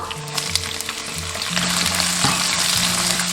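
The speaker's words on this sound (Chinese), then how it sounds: "把五花肉炒至变色，这些油脂炒出来过后，下入葱、姜、蒜、干辣椒" Pork belly stir-fries in hot oil in a wok with scallion, ginger, garlic and dried chili, giving a steady close sizzle with scraping stirring strokes and occasional clinks.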